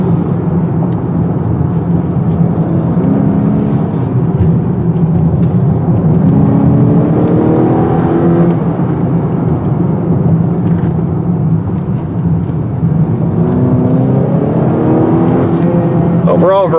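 A 2018 Honda Accord Touring sedan carves through corners, its engine note rising and falling steadily under a constant loud wash of road and wind noise.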